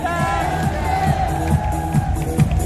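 A large crowd at an RCM event in Tyagraj Stadium, New Delhi, cheering with whoops and a continuous roar of voices, loud and sustained with rhythmic pulses of shouting.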